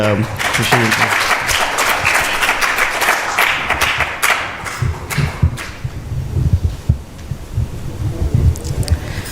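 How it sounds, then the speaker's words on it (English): Audience applause at a Vaishnava dharma talk, a dense wash of clapping that is loud at first and thins out over about nine seconds, with murmuring and some talk underneath. "So please give a big round of applause"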